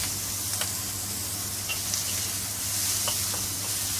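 Shelled shrimp sear in a pan over high heat, making a constant close sizzle with scattered sharp pops and spatters and a low steady hum underneath.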